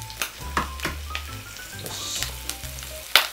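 Bacon frying in a pan, a loud crackling sizzle broken by sharp spitting pops and clatters of handling, with no voices over it.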